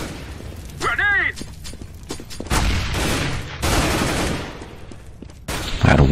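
Gunfire in Counter-Strike: Global Offensive, loud repeated bursts and booms from the game with mechanical clicks, mixed with players talking over it.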